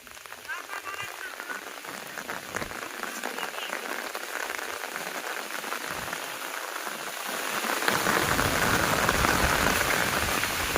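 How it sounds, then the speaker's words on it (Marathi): Rain patters steadily on a surface nearby, then grows heavier and louder toward the end; no one speaks. "पाऊस आला आता"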